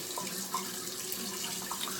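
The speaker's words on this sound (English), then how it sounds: "we're gonna do our ice cold New York City tap water splash" Cold New York City tap water runs steadily from a faucet into a bathroom sink, a continuous soft splashing hiss heard close up with no voices.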